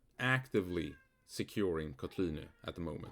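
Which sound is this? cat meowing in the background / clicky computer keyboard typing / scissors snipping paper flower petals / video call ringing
cat meowing in the background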